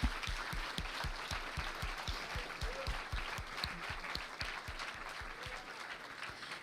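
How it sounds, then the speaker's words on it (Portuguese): A church congregation applauds during a children's service, rhythmic clapping in a steady even beat, moderately loud and sustained across the room, with faint voices underneath. "Aplauda o Senhor."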